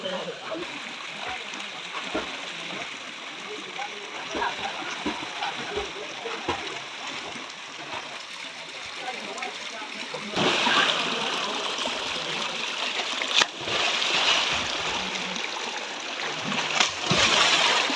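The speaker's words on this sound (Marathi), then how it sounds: "सात झरे एकत्र आलेत आणि या गाईच्या मुखातून पाणी तळावत येतो" Continuous rushing and splashing of spring water pouring from a cow-head spout into a temple pond at Sapteshwar Temple, Sangameshwar, growing louder partway through, with faint voices in the background.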